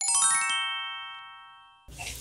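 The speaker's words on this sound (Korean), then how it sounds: "일단 전화 한번 해보겠습니다" Telephone ringing as a call is placed, a bright electronic chime with a struck start that rings out and slowly fades, cut off abruptly by a burst of line noise near the end.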